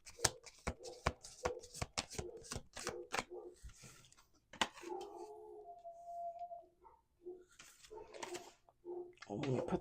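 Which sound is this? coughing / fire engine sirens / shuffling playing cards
shuffling playing cards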